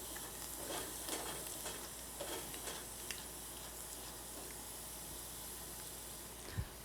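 Garlic sautéing in a pan gives a steady, quiet frying sizzle with soft stirring scrapes, continuous throughout, ending in a brief sharp knock near the end.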